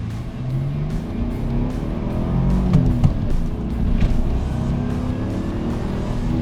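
A 1991 Dodge Stealth R/T twin turbo pulls hard, its engine note climbing through the gears with a steady rising drone and a brief shift around the middle, loud and close from inside the car.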